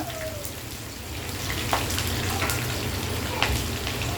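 Chopped shallots and green chillies fry lightly in a pan with a steady, fine crackling sizzle and occasional sharper pops, fairly quiet and close, no voices.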